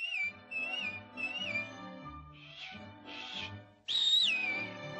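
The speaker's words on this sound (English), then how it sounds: "just whistle. Like this." A character in Disney's Pinocchio whistles a few short wavering phrases, then airy breathy attempts, ending in a stronger sustained whistle; close and clear with no talk.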